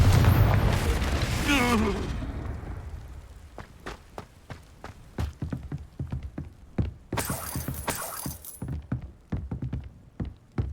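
A Confringo fire spell explodes in the Hogwarts Legacy game: a loud, roaring blast opens and fades over about two seconds, followed by scattered footsteps and clattering effects.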